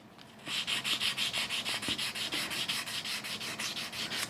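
Rapid, regular back-and-forth sanding strokes of abrasive grit across electric guitar frets, a close, continuous hissy rasp with no speech.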